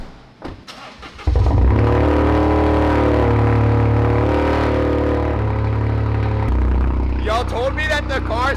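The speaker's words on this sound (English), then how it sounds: "let's hear a cold start after sitting for a few days" A Toyota GR Corolla cold-starts after sitting for a few days: a sharp crank catches into a loud, steady, rumbling high idle close to the car, easing slightly near the end.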